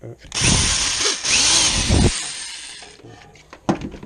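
A power drill whirs loudly in short bursts close by, then winds down, followed by a clunk and brief rattling.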